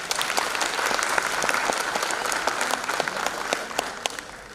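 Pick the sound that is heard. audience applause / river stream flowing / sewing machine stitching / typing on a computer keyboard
audience applause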